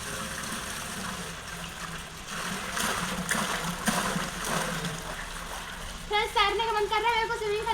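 Real natural spring water at Turra Kund, a natural pool, flowing and splashing steadily throughout, with someone talking over it and a brighter burst of water near the end.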